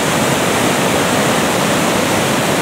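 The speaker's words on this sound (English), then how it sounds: "What I've come to see is there appears to be a waterfall." A forest waterfall near cliffs pours crashing white water in a loud, close, unbroken roar that fills the whole moment with dense rushing noise.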